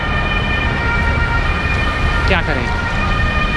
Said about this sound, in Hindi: एक एम्बुलेंस और आ गई